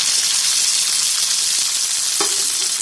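Grated potato sizzles loudly and steadily in melted ghee over a high flame while being stirred for potato halwa, with a brief scrape of the spoon near the end.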